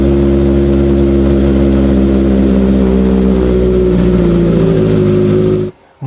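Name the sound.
Kawasaki ZX25R inline-four engine revving with Yoshimura exhaust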